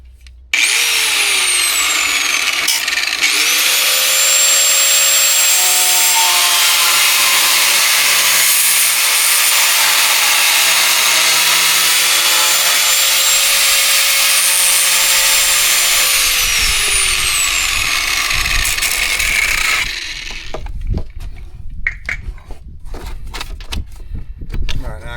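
A loud power tool whines steadily while cutting into an EZGO golf cart during an LED light kit install, then stops, leaving clattering and handling noises.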